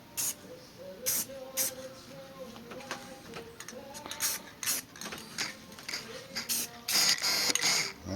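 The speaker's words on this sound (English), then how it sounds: "I'm going to spray a little bit down at the bottom to make sure I get the bottom side" Short bursts of a spray can laying a paint coating onto the bottom side of a Onewheel board, several separate hissing sprays of about half a second each with brief pauses between, close and fairly quiet.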